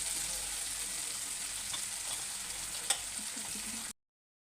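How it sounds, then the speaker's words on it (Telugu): Tomatoes with turmeric are stirred in a frying pan, giving a continuous soft sizzle with light scraping from the utensil, heard close for about four seconds before it stops. "పసుపు వేసుకొని కలుపుకుంటాను."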